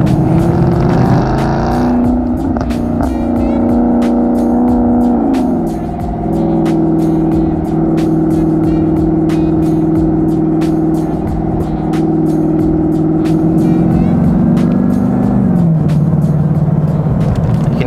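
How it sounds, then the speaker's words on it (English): A 2017 Ford Mustang Shelby Super Snake 50th Anniversary edition drives with a loud, close engine drone and a high supercharger whine, rising and falling through gear changes over about eighteen seconds. "Hear the whining of the supercharger going on as well, which is just awesome"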